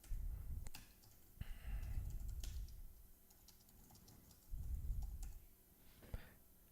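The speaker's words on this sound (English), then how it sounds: "You can just replace the text by typing over it." Quiet typing on a computer keyboard, an irregular patter of light key clicks with a few sharper taps, close by over a soft low rumble, with no talking.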